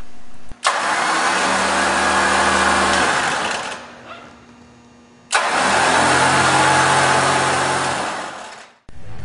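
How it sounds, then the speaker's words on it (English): A WARN PowerPlant winch's electric motor spools out wire rope on a Jeep bumper in two long, loud whining runs separated by a brief pause, each starting abruptly and winding down at the end. "flip the knob to winch and spool out a few feet of line to make sure everything is working properly"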